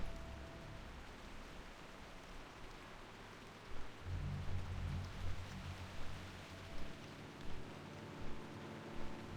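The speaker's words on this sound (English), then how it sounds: "I do like the vibe of zones that have rain when it's raining" Soft, steady rain in World of Warcraft hisses continuously, with gentle low rumbles of distant thunder rolling in partway through. No voices.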